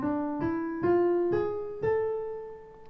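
Ascending notes of a harmonic minor scale on a sustained, harmonic-rich instrument, each tone struck cleanly and held about half a second, rising steadily; no voices.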